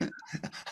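A person imitates a dog panting with short, rhythmic breathy huffs, several quick pants in a row, close and fairly loud, with no other talk.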